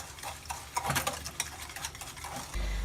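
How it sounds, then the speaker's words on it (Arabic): Chocolate cake batter being mixed in a bowl until creamy, with quick uneven whisking and scraping sounds nearby, a short burst with no talking. "غادي نخلطوا الخليط ديالنا ان شاء الله حتى كيولي كريمي"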